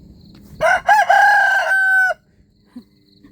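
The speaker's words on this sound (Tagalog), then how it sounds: "Nangigising na yung manok." A rooster crows once nearby, a loud rising call held for over a second before cutting off, followed by quiet.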